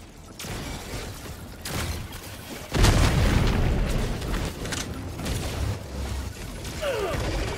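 A grenade explodes in a shooter video game with a loud, close boom, and rumbling, crackling debris and battle noise carry on after the blast.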